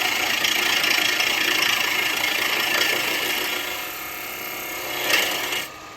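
A bowl gouge cutting wood on a turning lathe gives a steady, loud, hissing scrape over the machine's hum, holding evenly for several seconds before easing off near the end.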